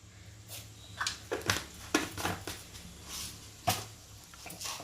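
Mustard seeds splutter in hot oil with scattered, irregular sharp pops and crackles over a quiet background.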